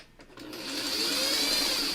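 Sewing machine stitching a quilt pattern, starting after a couple of soft clicks and then running in a steady close mechanical whir.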